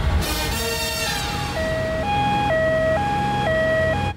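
An ambulance siren wails in a steady two-tone alternation, loud and close, repeating its high-low pattern throughout with no voices over it.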